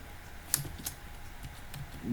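Quiet clicks of typing a section name on a computer keyboard while working in PowerPoint, a few light, scattered keystrokes over a faint background hiss.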